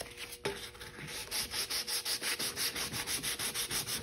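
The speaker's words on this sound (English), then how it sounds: "I'm going to sand this first" Sandpaper rubbing over a centerboard bumper in a steady run of close, rhythmic back-and-forth strokes, each pass giving a gritty scratch, with no voices.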